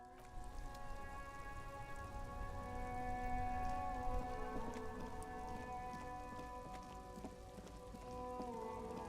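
Steady rain patters down in the Disco Elysium video game, a continuous loud wash over a sustained tonal music drone, with no voices.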